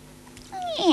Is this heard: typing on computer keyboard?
no